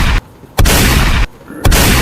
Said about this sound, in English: 3 gunshots for her, man.